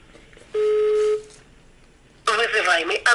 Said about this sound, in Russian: Тань, иди, позвоним.